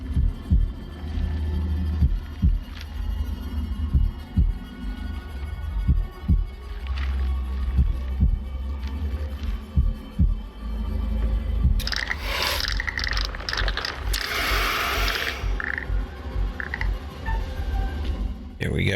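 In the video game House of Ashes, a deep pounding heartbeat thumps steadily and loudly throughout, with a burst of harsher game noise near the end.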